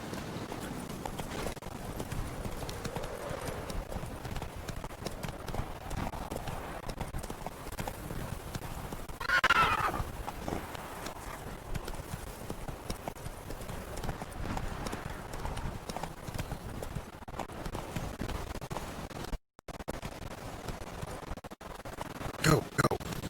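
Roach, a horse in The Witcher 3 video game, galloping with a fast steady clip-clop of hooves across the whole stretch, a brief louder swell midway and a short drop near the end, a voice talking over it.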